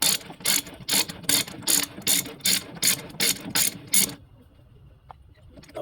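A ratchet with a 32 mm socket clicks rapidly and evenly in about a dozen bursts while working on the ZF steering box of a Lamborghini 350 GT, then stops, leaving quiet workshop background with a faint knock.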